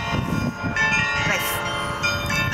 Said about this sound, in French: le carillon c'est pas trop un truc des ch'tis en fait